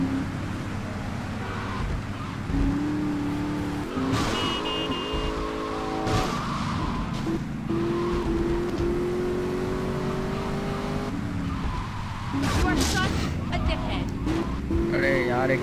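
A car in GTA Vice City, smoking and damaged, drives hard with repeated tire squeals and skids over a steady engine roar, plus brief crash-like hits across the stretch.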